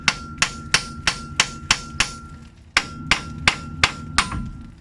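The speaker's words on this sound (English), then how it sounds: "I'll just hammer it out." Metal hammer blows ring out in a steady rhythm while hammering out a ball joint on a 1974 Chevrolet front suspension, about a dozen sharp strikes with a high ringing tone and a short pause midway.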